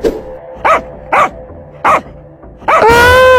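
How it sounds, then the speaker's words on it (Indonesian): A dog barks three times in short, evenly spaced bursts, then lets out a longer, higher whining yelp, fairly close and loud. "Ada guguk galak."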